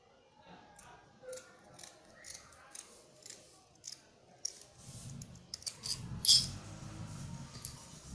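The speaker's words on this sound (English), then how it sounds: "So I'm cutting the back neck first." Scissors snip through fabric while cutting the back neckline of a kaftan dress, a regular run of close, crisp cuts that grows busier and denser toward the end, with fabric rustling underneath.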